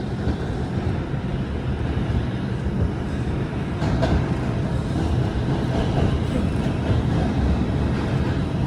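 A New York City R142 subway train on the Bronx-bound 4 local along the Lexington Avenue line rolls between stations, a steady rumbling interior roar with wheel clatter building slightly partway through.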